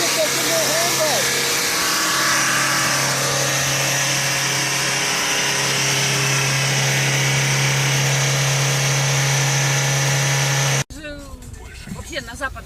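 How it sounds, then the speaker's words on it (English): A runaway diesel engine with a turbo, racing out of control at a loud, steady, high-pitched roar with a droning hum for about eleven seconds before stopping abruptly, followed by faint rustling. "Двигатель в разнос пошел."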